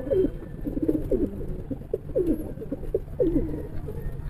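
Soft, low pigeon coos repeat in short rolling phrases, several overlapping calls close by over a steady background hum.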